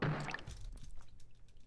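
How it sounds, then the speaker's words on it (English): An old fire extinguisher in a video game bursts with a short, muffled thunk and hiss. The sound fades quickly into a few faint scattered ticks. "The old fire extinguisher exploded, directly impacting Mashiro's face."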